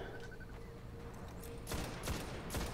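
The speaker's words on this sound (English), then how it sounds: "Gonna just lay in all 7 shots. It's gonna do a hell of a lot of damage." Several quick bursts of weapon fire ring out in the Destiny video game during a Devils' Lair Nightfall strike, fairly faint over a low background hum, with no talk.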